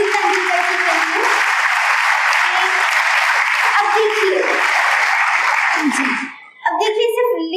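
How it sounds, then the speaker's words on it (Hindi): A large audience applauds Sachin Tendulkar at a motivational speech event, loud and sustained for about six seconds before it briefly fades, and then a speaker's voice comes in. "एक बार जोरदार तालियां बजाइए सचिन तेंदुलकर के लिए।"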